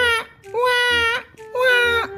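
Three loud bursts of a baby wailing in Sakura School Simulator, each cry rising and breaking off with short pauses between, close and alone.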